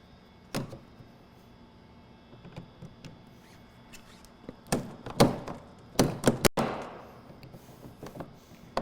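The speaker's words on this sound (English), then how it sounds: "now we're gonna tighten the ring clockwise to get it locked in" Locking ring on an S&B 45-gallon replacement fuel tank for a Mercedes Sprinter being turned clockwise by hand: scattered plastic thunks and knocks, a few sharper clicks clustered near the end, close and fairly quiet with no talk.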